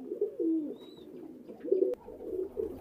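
Pigeons of the pailam jhuti kagji breed coo at a farm, low throaty rolling calls repeating in a few bursts at moderate distance, with no talking.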